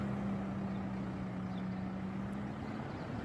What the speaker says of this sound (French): Hop, un petit tracteur qui passe, je sais pas si vous l'entendez.